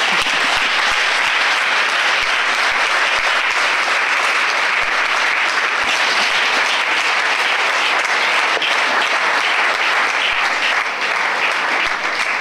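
Sustained loud applause and cheering from a church congregation at an evangelical worship service in Côte d'Ivoire, steady and dense throughout, with no talking over it.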